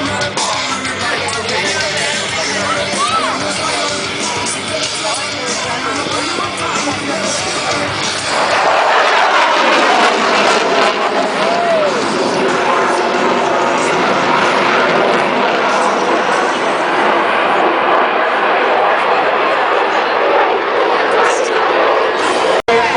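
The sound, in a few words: aircraft making a high-speed pass at an airshow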